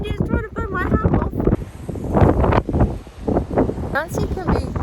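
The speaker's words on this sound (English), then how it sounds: "It's so windy" Gusty wind buffets the microphone with low rumbling roars while a person talks over it outdoors with a retired racing greyhound, close and fairly loud throughout.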